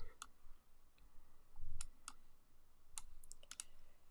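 Sparse, quiet clicks of individual keys being pressed on a computer keyboard, a handful of separate taps spaced irregularly over a few seconds.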